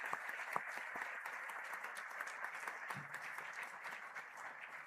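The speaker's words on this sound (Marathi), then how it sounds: "आपण खूप जोरदार टाळ्या वाजवल्या पाहिजे" An audience at a political speech applauds steadily, a dense, even wash of clapping heard from a distance and fairly faint, with no speech over it.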